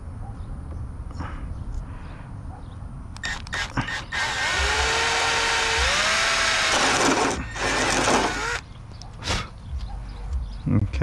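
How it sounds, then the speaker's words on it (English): A step bit bores holes in a carbon fiber widebody front fender on a C6 Corvette, a loud sustained drilling whine with rising pitch running for several seconds, then a few short bursts trailing off. "I'm gonna use this step up bit to drill them"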